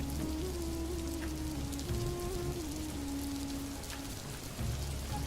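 Steady rain falls outside a rural Bengali home, a dense, even patter on surfaces with a low hum running underneath, continuous and moderately loud, with no speech.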